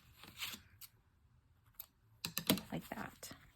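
Scissors snip through paper during paper-bag booklet and junk journal making, a cluster of sharp close crisp cuts and rustles after a quieter stretch of faint handling sounds.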